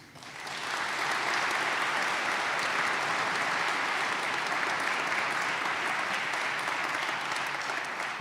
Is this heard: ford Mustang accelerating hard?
no